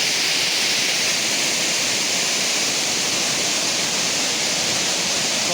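Kothapalli waterfall rushing with great force: a loud, unbroken roar of falling water, dense and steady throughout, with no voices.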